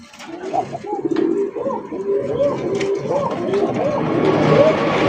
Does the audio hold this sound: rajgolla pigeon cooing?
yes